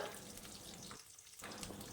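Steady crackling sizzle of food frying in hot oil, continuous and close, with a brief dip in intensity midway.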